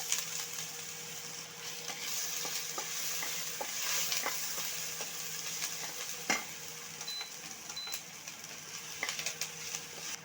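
Chopped garlic and grated ginger frying in hot oil, a steady soft sizzle with occasional faint taps and stirring clicks, fairly quiet throughout.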